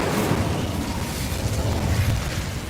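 Incendio fire spell cast in Hogwarts Legacy, a steady roaring, crackling burst of flame that holds loud and dense for nearly three seconds without pause.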